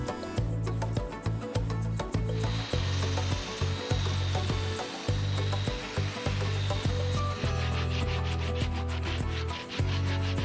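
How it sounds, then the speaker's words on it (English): Chisels, knives, brass brushes and sandpaper clean out cracks in a walnut slab for a resin dining table, giving rhythmic scraping and brushing strokes over a steady background whir, close and moderately loud. "Now it was time to clean the cracks, for which I used chisels, knives, brass brushes and sandpaper."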